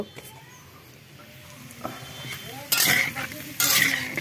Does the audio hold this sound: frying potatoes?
yes